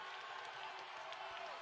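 Basketball crowd of about 1,800 on its feet at an Idaho home game, a dense, steady roar of cheering and applause filling the arena, fairly distant and continuous.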